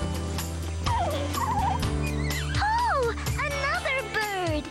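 A cartoon bird building a nest in a children's TV show gives warbling, gobbling calls in several quick bursts over a steady musical backdrop.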